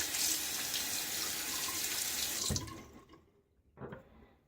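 Water runs from a tap for a final rinse during a wet shave, a soft steady gush that cuts off midway, followed by a short faint splash.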